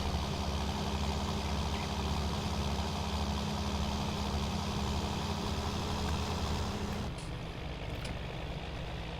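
A tractor engine in Farming Simulator 19 idles with a loud, constant low diesel drone and rumble, running unbroken for several seconds before the deepest tone drops away near the end, with no talking.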